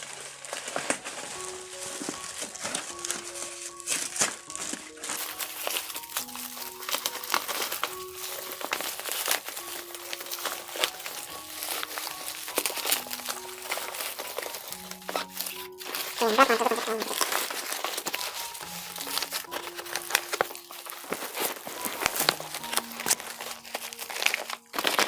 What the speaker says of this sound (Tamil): நம்ம ஃபுல்லாக நம்ம கவர் வந்து அன்ராப் பண்ணிடலாம்